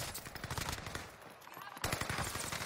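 Rapid automatic gunfire from a weapon in a shooter video game, a dense continuous burst that pauses briefly and then resumes, with a voice talking over it.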